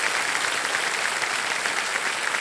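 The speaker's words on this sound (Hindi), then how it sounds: "सारे जोरदार तालियां बज जाए।" A studio audience on a television quiz show breaks into loud, dense, sustained applause that stays steady throughout with no voices over it.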